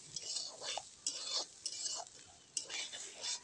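A spatula stirs a pan of cauliflower and potato bhaji being fried until reddish, giving repeated scraping and rustling strokes that arrive in bursts with short pauses, fairly faint and close.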